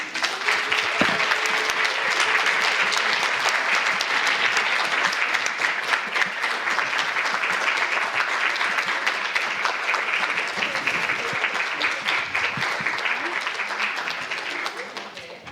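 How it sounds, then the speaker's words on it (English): Sustained audience applause fills a room at a case-presentation event, loud and steady for about fifteen seconds with dense clapping that fades slightly near the end. "so that we can also from the audience have applaud to you together"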